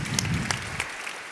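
An audience claps after a business talk, a dense patter of many hands that fades out within a second or so.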